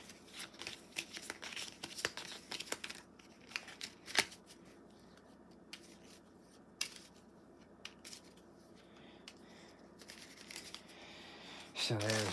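Close, crisp riffling and snapping of playing cards being shuffled several times, with soft handling sounds between bursts and a quiet voice at moments.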